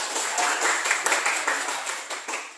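Classroom applause for student groups, a dense patter of many hands clapping at moderate distance, steady and sustained without talk.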